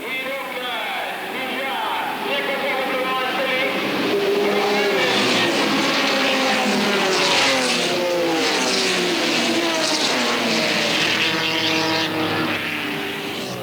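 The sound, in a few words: Ferrari Daytona and race cars driving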